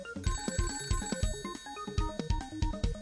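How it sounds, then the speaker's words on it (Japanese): A phone rings in a Japanese video game about an extremely shy boy, a quick repeating electronic ringtone with a bright, bouncy pattern, heard alone and fairly quiet. "そっちの電話じゃなかったんだ鳴ってるの"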